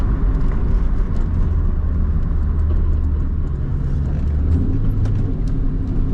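Straight-piped 2003 Ford Mustang GT V8 exhaust while driving, a loud, steady, deep rumble that drones on without a break through the whole stretch, heard from inside the car.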